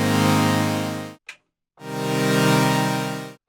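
A Modal Cobalt 8M virtual analog synthesizer with a linear envelope holds two sustained, buzzy, harmonically rich notes, each rising and falling evenly, separated by a brief click and a short silence.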